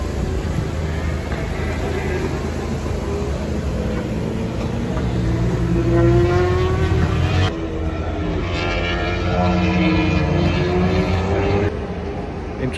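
Race cars at a British Superbike and Ducati Cup test session circuit, engines droning loudly and continuously with rising and falling passes, one car sweeping by near the middle of the stretch before the sound drops and builds again.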